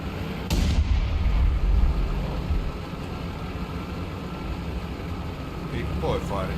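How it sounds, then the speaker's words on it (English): A large warship in War Thunder fires its guns, heavy booming blasts rolling under a dense, continuous wash of battle noise, with a voice speaking faintly over the din. "Big boy firing each gun."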